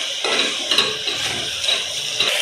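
Spices being stirred into aloo masala potato curry in a pan, a spoon scraping and clinking against the metal with soft wet shuffling, steady and close with no talk.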